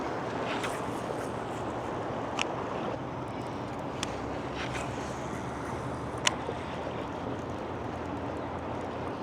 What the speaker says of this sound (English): I've got the trolling motor on full power right now and I'm just barely staying in the same spot